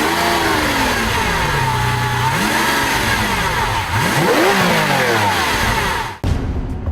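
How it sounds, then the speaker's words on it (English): The mid-mounted, 48-valve V12 of a 2012 Lamborghini Aventador revs hard, its loud, close tone sweeping up and down through several throttle blips before cutting off sharply at the end. "the center console position start button that conjures up Top Gun sequences whenever the mid-mounted V12 is stoked"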